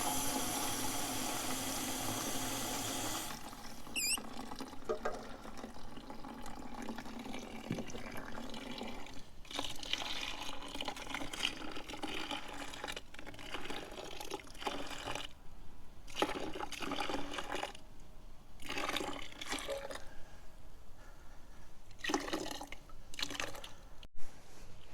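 Water rinsing and sloshing through a Harley-Davidson Ironhead fuel tank being flushed clean of bubbly cleaner, a steady close wash of liquid with uneven splashy bursts throughout, no talk.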